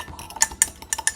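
A fork stirs coffee in a cup, giving several light, quick metallic clinks and scrapes in an uneven rhythm, close and fairly quiet, with no voices.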